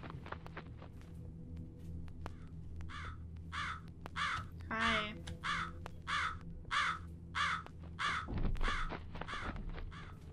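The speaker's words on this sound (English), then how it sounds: "Just got a bird flapping around." Crow in the horror game Jisatsu cawing about a dozen times in an even, regular rhythm, clear and moderately close over a quiet low hum, with a soft thud near the end.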